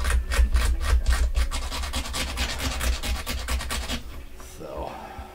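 Rapid rhythmic scraping of old glue from the nut slot of a 1950 Sherwood Deluxe archtop electric guitar, close and steady for about four seconds before stopping into near quiet.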